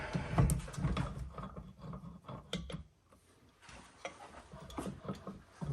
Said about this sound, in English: So time to put it in the distributor machine and see where we're at